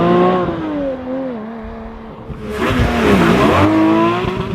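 A Porsche 718 GT4 with a six-cylinder engine and manual gearbox accelerates hard, its rising engine note broken by brief gear changes, then a louder rough burst midway before the revs climb again, close and loud.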